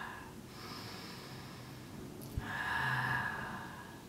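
Deep breathing exhaled long and slow out through the mouth during a yoga breathing exercise, heard as a soft, close breathy rush of air that swells for about a second and then fades.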